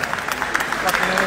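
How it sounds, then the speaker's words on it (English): Crowd applause at a WBC world middleweight title boxing bout, a dense continuous patter of clapping from a large arena audience, moderately loud, with voices mixed in underneath. "big applause for these two fighters, Liam Nolan and youseff"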